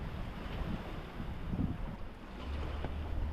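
A sailboat runs wing on wing off the Atlantic coast of Portugal, with steady wind rushing across the microphone and water washing along the hull. The sound stays close and fairly constant, and no one speaks.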